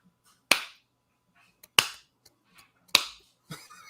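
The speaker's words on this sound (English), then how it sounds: "somebody has to start the slow clap" Slow claps ring out one at a time, three sharp, crisp smacks spaced about a second apart with a softer fourth starting at the end, in an otherwise quiet room.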